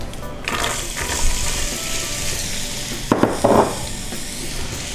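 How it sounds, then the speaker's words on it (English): Diced onions hit hot oil in a pan, giving a steady broadband sizzle that runs throughout, with a couple of brief louder crackles and scrapes near the middle. "I'm gonna add some onions that I've diced."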